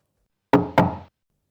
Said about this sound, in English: Suddenly, there was a loud knock on the door.